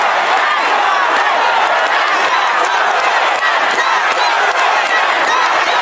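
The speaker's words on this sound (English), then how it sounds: "here's crowds chanting, tax the rich, as New York Governor Hochul spoke at the New York is not for sale rally last night" A large rally crowd in New York chants "tax the rich" while Governor Hochul speaks, a dense, sustained roar of many voices that stays loud and steady throughout with faint cheering mixed in.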